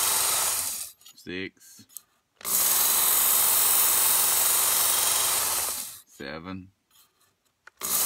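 Work Sharp belt knife sharpener grinding a knife blade in two loud, raspy passes, the first about a second long and the second a sustained stretch of several seconds, with a person counting aloud between them.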